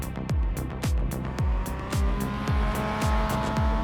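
A race car in iRacing at Tsukuba circuit, with a rhythmic series of about a dozen sharp revving sweeps, each a rising engine note cut off by a quick gear change, loud and close with no talking.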